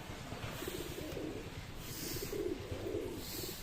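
Pigeons coo softly in a repeated, throaty rhythm over a light background hiss, several low calls spaced across a few seconds.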